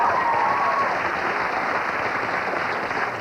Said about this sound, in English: I just wanted to get some applause